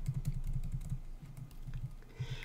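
Typing on a computer keyboard while writing Perl code, a quick run of close, crisp key clicks in an irregular rhythm with a few short pauses.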